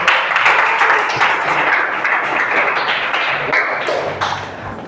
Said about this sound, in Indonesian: tepuk tangan buat kalian dulu